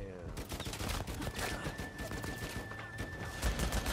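Rapid gunfire in a video game, a dense stream of overlapping shots that runs unbroken and fairly loud through the whole stretch, with a steady tone and game noise underneath.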